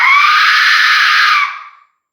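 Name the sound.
death whistle blown, scream-like sound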